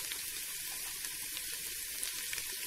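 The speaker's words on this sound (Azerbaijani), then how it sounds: "Və soğanımızı qovururuq." Chopped onions fry in butter in a pan with a steady, close sizzle and crackle that continues evenly throughout, with no voices.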